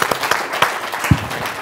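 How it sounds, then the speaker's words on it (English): An audience at a UK property partner conference claps for a table of attendees: moderate, scattered applause with a few sharper individual claps standing out, and no talking over it. "Let's give this table a round of applause."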